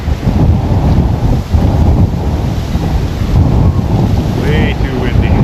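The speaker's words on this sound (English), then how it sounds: "It's too windy today." Strong wind roars and buffets the microphone in steady gusts during a bike ride in Toronto, with a faint whistle-like tone near the end.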